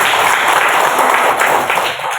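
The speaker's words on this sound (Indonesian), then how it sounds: "Tepuk tangan buat." Schoolchildren in a classroom clap for a classmate who won a prize, a short, close burst of mixed claps that stays busy throughout.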